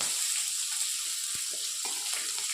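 Pounded garlic hits a hot frying pan in a dry fish gravy, giving a steady hiss of sizzling oil with a few soft clicks, close and alone.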